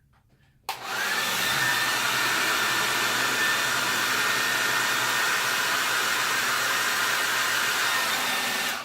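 A handheld hair dryer switches on with a click and runs as a steady, loud, close-up whooshing roar while blow-drying hair, continuing unbroken for several seconds before cutting off.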